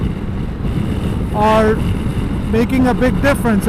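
Wind roars across the mic during a ride on a BMW K1600 B touring motorcycle on a windy day, a steady low rumble that runs the whole time under someone talking.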